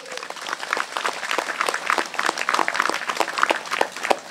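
Church audience applauding during a Hindi sermon on repentance, a steady wash of many hands clapping close and loud throughout, with no speech over it.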